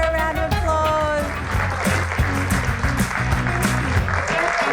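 Studio audience applause on a talk show as a woman is called up, clapping and cheering over upbeat background music with a steady beat, fairly loud throughout.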